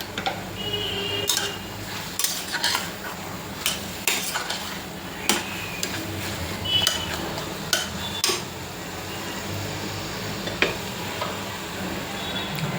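Food sizzles in a pot while a spoon scrapes and clinks against the metal at irregular intervals, stirring close by; green chicken masala with garam masala being sautéed.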